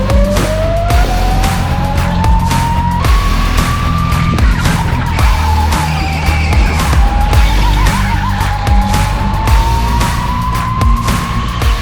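A racing kart on track during a qualifying session in a professional racing league, engine whining loud and close as it rises and falls through the gears, with steady tire and wind noise throughout.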